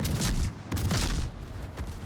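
Heavy naval gunfire booms and rumbles from warships in a battle video game, coming as a dense, continuous barrage of overlapping blasts.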